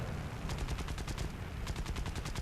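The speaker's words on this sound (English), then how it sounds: "Here I'm just firing machine gun to freak him out" Rapid machine gun bursts from an A6M2 Zero fighter in the War Thunder flight game, loud and steady with evenly spaced shots running through the whole stretch, no voices.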